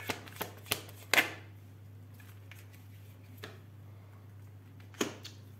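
Tarot cards shuffled and drawn, a few sharp close card snaps and flicks at the start and one more near the end, otherwise quiet with a low steady hum.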